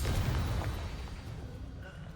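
A Confringo spell explosion in a wizard video game gives a deep, dull rumbling boom that is loudest at the start and fades into a low, lingering roar over about two seconds.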